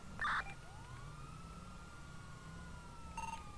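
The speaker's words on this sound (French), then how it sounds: "Je propose de sirène hurlante aussi si vous voulez." A police car siren in a video game police patrol wails steadily with a long rising and falling tone, mid-distance and moderately loud, with a brief electronic chirp near the start and again near the end, no talk.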